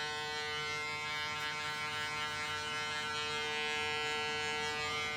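Hair clippers fitted with a 1.5 mm half guard run steadily while cutting hair, a close, continuous electric buzz with a strong tonal hum and no talk.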